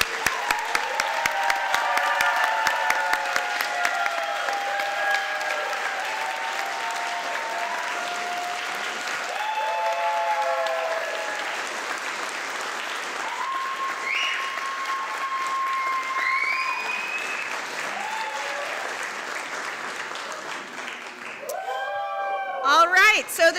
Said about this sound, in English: join me in one more round of applause for our graduates